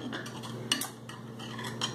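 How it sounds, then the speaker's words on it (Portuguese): Knife chopping calabresa sausage: a run of sharp, irregular taps against a board, close and moderately quiet over a low background hum. "eu tô aqui picando a calabresa"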